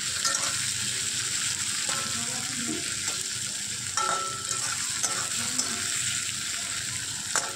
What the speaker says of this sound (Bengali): তো এখন আমি পেঁয়াজটাকে একটু ভালো করে ভেজে নিচ্ছি।